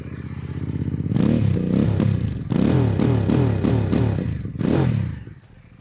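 A Benda Napoleonbob 500 motorcycle engine revs hard in repeated bursts up against its soft limiter, each rise bouncing and stuttering at the top before dropping back, loud and close with no talk.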